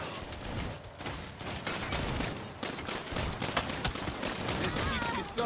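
Gunfire rattles through a Saints Row video game firefight, dense rapid bursts and shots that keep going throughout.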